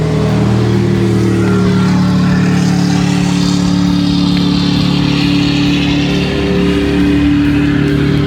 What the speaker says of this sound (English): Sorry about the boat noise. There's all kinds of boats out.